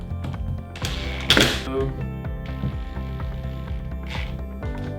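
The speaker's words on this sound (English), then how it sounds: "So I'm gonna screw this sucker in again, tighten it up." Screws being driven in and tightened on a Schlage deadbolt during a home installation, making rapid ratcheting clicks and mechanical whirring with a few louder thunks, close and loud.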